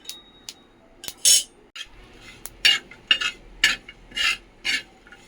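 Peanuts, sesame seeds and coconut dry-roast in a pan while a spoon repeatedly scrapes and stirs them, producing sharp rattling swishes in an irregular rhythm against a quiet background.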